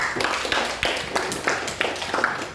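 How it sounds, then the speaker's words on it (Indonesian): Audience clapping after a classroom presentation on renewable energy in Indonesia, a scattered run of claps spread over a few seconds, moderately loud and fairly close with no talk over it. "Beri tepuk tangan dong."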